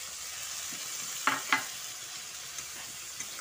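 Spice paste fries in a pan for a fish curry with new potatoes, bori and cauliflower, a soft steady sizzle with two sharper scraping stirs near the middle and faint clinks later.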